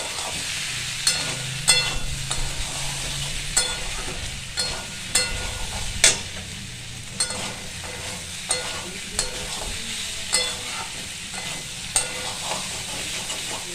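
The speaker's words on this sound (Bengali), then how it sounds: "আর একটু কষাবো ভালো করে।" Raw pumpkin curry is sautéed in oil in a pan, with a steady sizzle and a regular series of loud spatula scrapes and knocks recurring every second or so, close and uninterrupted by speech.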